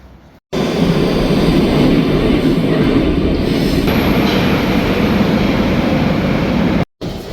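A loud, steady rumble of a train running through Leningradsky railway station in Moscow, with dense rolling noise that drops out briefly at the start and near the end.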